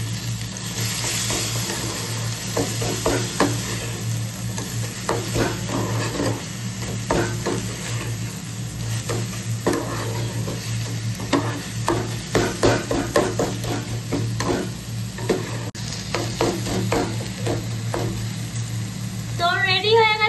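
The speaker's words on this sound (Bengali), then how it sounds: "তো এবার একটু নাড়লেই তৈরি হয়ে যাবে আমার শাক ভাজাটা পুরোপুরি ভাবে।" Red amaranth leaves fry and sizzle in a pan while a spoon stirs them, scraping and clinking against the metal in repeated strokes over a constant loud sizzle and low hum.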